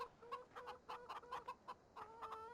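Chickens in the video game Farming Simulator 17 cluck in a quick run of short, tonal bursts, several calls close together, with a brief pause before a final pair.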